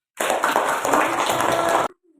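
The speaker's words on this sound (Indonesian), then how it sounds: "Tepuk tangan dong untuk kita semua." A classroom of students clapping together in a short, dense burst of applause lasting under two seconds, close and fairly loud, then stopping abruptly.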